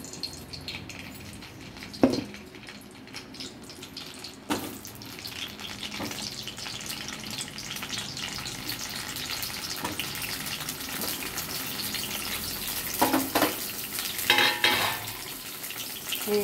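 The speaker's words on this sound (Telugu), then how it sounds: "ఫస్ట్ ఆయిల్లో వేసేయాలి వంకాయలు." Eggplants drop into hot oil and fry, a soft continuous sizzle with a few sharp clatters and splashy bursts as pieces go in and get moved about, nearby with no voices.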